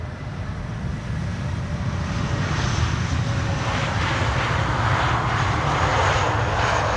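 Aircraft landing on Schiphol's Polderbaan runway 18R, a loud, steady jet engine roar with broad rushing noise that builds slightly as the plane passes, heard alone without talk.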